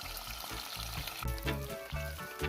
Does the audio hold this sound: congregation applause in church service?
no